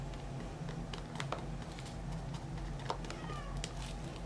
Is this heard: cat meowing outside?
yes